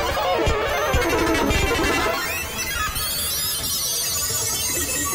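An effect patch played on a Yamaha Montage FM-X synthesizer, built from several FM parts with effects and modulation, producing a dense, noisy, swirling wash of sound with a few low thumps early on, steady and loud throughout.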